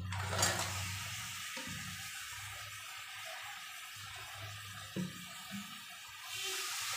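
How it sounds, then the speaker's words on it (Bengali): Water is poured into a pan of crab, spices and potatoes cooking for a spicy crab dish. It comes as a steady, rushing wash over a low hum, with a couple of soft knocks and no talk. "অল্প করে জল দিলাম, ভালো করে একটু কষাবো বলে, কাঁকড়া, মশলা আর আলু দিয়ে"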